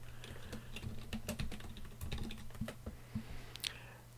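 Computer keyboard typing, a run of quick irregular key clicks close by and fairly quiet, with short pauses between bursts and no voices.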